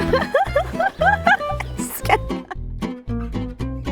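Repeated short grunting oinks from a sow with her piglet, mixed with higher squeals and snorting, fairly close and busy with no clear pauses.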